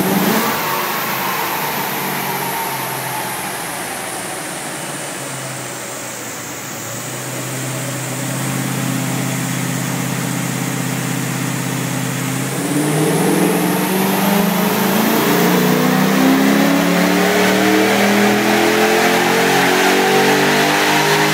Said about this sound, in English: Now we're going to give it a pull, turn the dyno fan on and let Rob give it a pull